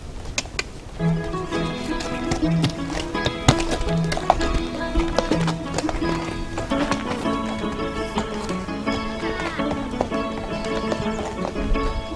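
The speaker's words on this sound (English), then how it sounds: "What better way to explore this than on horseback? I'm riding on the recently opened track right along the coast" Horse hooves clip-clop in a steady, moderately quick rhythm as a rider follows a newly opened coastal track on Corfu from Avlaki toward Agios Stefanos, close and clear, with faint birds and a brief whinny-like sound.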